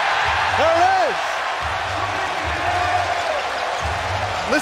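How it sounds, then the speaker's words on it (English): Basketball arena crowd roaring at a professional game, a loud sustained wash of cheering and noise filling the clip, with low thumping and a commentator's voice rising over it at times. "Listen to this crowd."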